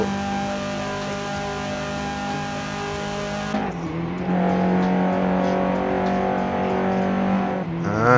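A Honda Civic EK9 Type R with its B16B engine in Forza Horizon 5 holds a steady high-revving buzz, drops sharply at a gear change, then climbs again, loud and close.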